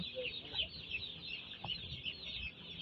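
Broiler chicks cluck softly in the background while brooding in cold weather, scattered little calls over a steady hum, with no talking.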